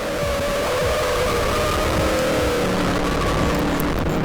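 Race car engine roars loudly and continuously while cornering through a long track turn, a dense steady drone with no talk.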